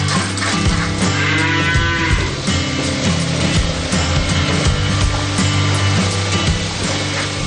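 Friesian Holstein dairy cows at a dairy cattle complex in Pondok Rangon, East Jakarta, moo loudly and repeatedly, with long, deep calls overlapping against a dense barn background.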